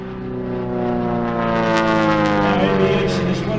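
Modified Super Chipmunk airshow plane with shorter wings, open cockpit and a 280 hp Lycoming Thunderbolt engine roars past loud and close, its propeller drone rising in pitch and intensity as it approaches.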